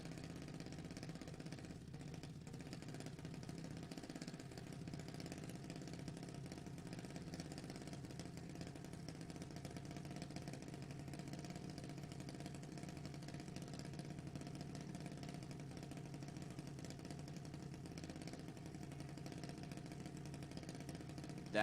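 A drag racing car idles at a drag strip during a race-day event, its engine holding a steady, low rumble throughout, heard from a distance and fairly faint.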